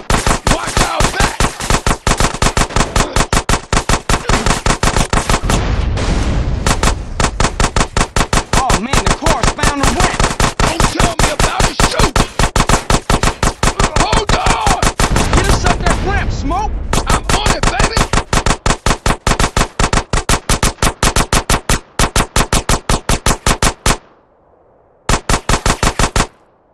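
Sustained automatic gunfire from Grand Theft Auto: San Andreas – The Definitive Edition, dense loud bursts of rapid shots running almost continuously with brief gaps, then a short silence and a final burst.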